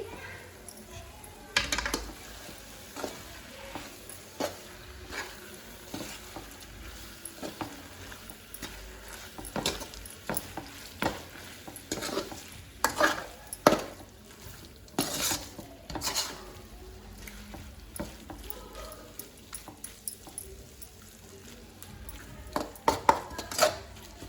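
A spoon stirring gongura egg curry in a pan with clove and cinnamon powder: scattered scrapes and clinks against the pan over a faint sizzle, irregular and fairly quiet, with brief talk now and then.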